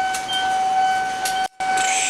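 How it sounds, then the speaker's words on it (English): A train pulls into a station, heard as a steady hum with a sustained tonal whine and brief hissing bursts, one short dropout, and no voices. "But the train's coming now."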